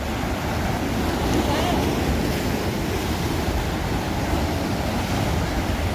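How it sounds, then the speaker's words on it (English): Ocean waves wash through narrow rock canals on the Margaret River coast, a steady, loud roar of surf and churning water with wind buffeting the microphone throughout. "You could sit here for hours and just watch the waves come through the canals, and they go off to the right and the left"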